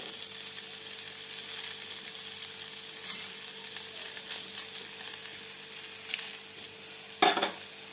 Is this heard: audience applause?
no